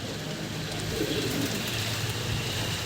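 Domestic pigeons of desi bloodlines, including green pigeons, coo softly in a loft amid a dense steady background hum, the low calls repeating faintly with no talking.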